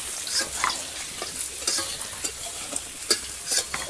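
Eggs fry in a hot pan in a home kitchen, a close, constant sizzle broken by repeated sharp spatters and pops.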